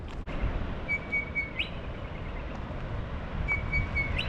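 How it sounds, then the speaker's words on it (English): Birds in a quiet west coast town at Elands Bay, South Africa, give a few thin whistled chirps, one around the middle and another near the end, faint over steady outdoor background noise. "They encourage the sound of birds instead."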